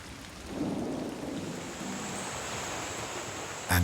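A heavy rain downpour hisses steadily with a low rumble underneath, ending in a sudden louder burst.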